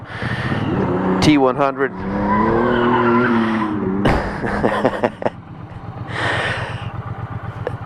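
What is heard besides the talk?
Ford truck driving past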